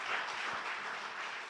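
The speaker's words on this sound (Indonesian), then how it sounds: "Beri tepuk tangan dulu buat Tuhan Yesus Kristus." Congregation applauding at a Sunday worship service of GBI Pantai Permata Rayon 1 church in Batam, a steady wash of many hands clapping together, fairly distant and soft, with no one speaking.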